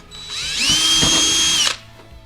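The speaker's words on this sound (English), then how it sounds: "I'm going to take a 3/32 drill bit, put it right here in the middle on my mark" Power drill spinning a 3/32 bit into plastic inside a 1987 Saleen during a dash conversion: a rising whine that holds steady for about a second, then stops, close and loud with no talk.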